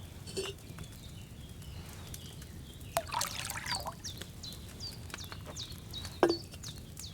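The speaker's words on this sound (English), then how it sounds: "what did you pour in there? Wine, of course." Wine trickles and pours into a cauldron in the video game Kingdom Come: Deliverance 2, a soft liquid patter with a couple of clinks from the pitcher, set against quiet ambience and faint chirping.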